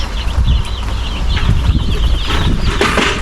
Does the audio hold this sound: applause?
no